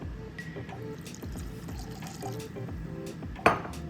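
Liquid poured slowly into a bowl of tahini sauce for an air-fried tofu and vegetable dish, a soft continuous trickle and splash close by with faint kitchen clatter and a sharper clink near the end.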